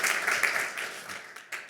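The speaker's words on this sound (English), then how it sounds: "You can applaud, it's okay." Brief applause from an audience at a green startup pitch event, a short burst of clapping that fades out over about two seconds.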